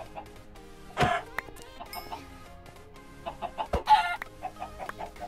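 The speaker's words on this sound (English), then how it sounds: "Chickens! Chicken." Chickens clucking in a blocky survival video game, with scattered short clucks, a couple of sharp louder bursts and a rapid run of clucking toward the end, with no talk.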